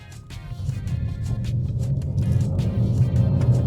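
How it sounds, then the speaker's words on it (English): Nissan Qashqai SUV accelerating hard in sport mode on a wet road, engine note rising steadily and growing louder from inside the cabin, with no one speaking. "We're going to go from 0 to 60 as fast as the car will go"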